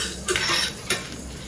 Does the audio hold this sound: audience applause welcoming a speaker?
no